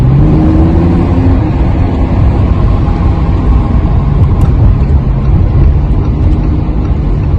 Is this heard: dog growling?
no